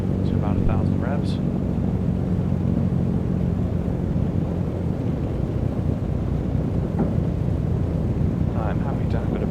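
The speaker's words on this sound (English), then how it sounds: "Finally. An engine is coming online. Okay, I'm revving it a bit too much." A simulated Lockheed L-049 Constellation piston engine in the A2A flight simulator game revs as it comes online, a steady rumbling drone that holds throughout, with someone talking over it near the start and again at the end.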